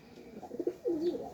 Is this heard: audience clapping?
no